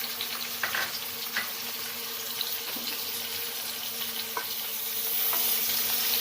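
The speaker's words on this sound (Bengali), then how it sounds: "তেল গরম হয়ে আসছে, এবার এখানে ক্যাপসিকামগুলোকে ছেড়ে দেব" Capsicum pieces hitting hot oil in a pan, a soft steady sizzle with scattered pops and faint stirring scrapes, the frying noise growing slightly louder and fuller toward the end.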